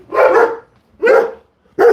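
A dog gives three loud, close barks in quick succession, each short and sharp with brief pauses between them.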